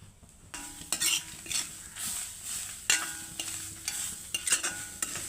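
Dried red chillies roast in a pan while a spoon stirs them in repeated scraping strokes against the metal over a light sizzle, close and with no one talking.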